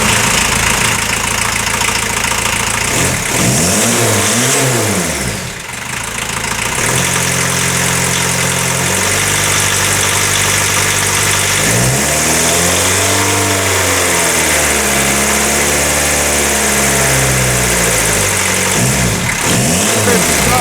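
A turbo diesel engine swapped into a 1980 VW Rabbit Caddy pickup runs up close with a steady low rumble, revving up and down a few times with rising and falling pitch.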